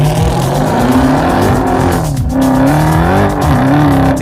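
A Dodge Charger making over 700 horsepower, with traction control off, roars hard on gravel, its engine loud and close as the pitch rises and falls with gear changes, while tires squeal and skid underneath.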